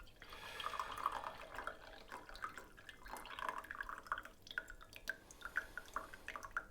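Green tea from a second brewing of the Saemidori cultivar is poured in a soft, faint trickle, with light splashing and dripping that rises and falls over several seconds, no talk.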